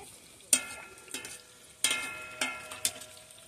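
Onions, tripe and spicy house-made longaniza sausage frying in a pan, a soft sizzle broken by several sharp scraping stir strokes at irregular intervals, close and without talk.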